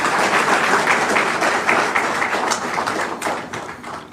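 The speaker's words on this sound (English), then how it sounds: "You can clap for that." An awards-ceremony audience claps steadily and densely throughout, a broad wash of many hands that thins slightly toward the end.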